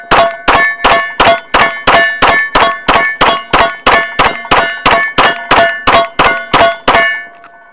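A Gen 5 Glock pistol with Cross Armory parts fires through a full magazine: about eighteen loud, sharp shots in an even, steady rhythm, each ringing briefly before the next, then stopping.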